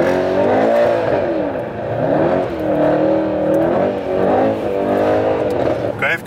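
A Mercedes E63S engine roars loud and close while the car drifts sideways, revving up and down in sweeping waves of sustained growl, with people talking over it.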